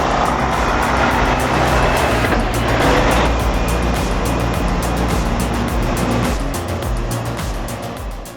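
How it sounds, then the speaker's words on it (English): A Volvo FH16 600-horsepower truck carrying 30 tons of timber works through a sharp turn. Its heavy diesel rumble stays loud and steady throughout, with broadband road and mechanical noise layered over the low drone. "The Volvo FH 16600, packing 600 horsepower, is tackling a sharp turn with 30 tons of timber on its back."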